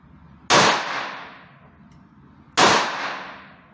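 Two sharp, loud gunshots from a 9 mm pistol-calibre firearm that takes Glock magazines, fired at a target about two seconds apart, each a hard crack followed by a quickly fading echo.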